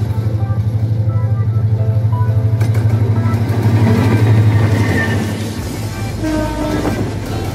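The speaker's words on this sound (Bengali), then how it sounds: "এই ট্রেনটি রাজধানী ঢাকা থেকে সিলেটের উদ্দেশ্যে রওনা দেয়।" A Bangladeshi intercity train from Dhaka's Kamalapur station toward Sylhet rumbles loudly with a steady rhythmic engine throb, then the rolling noise shifts and fades somewhat with faint rail clatter.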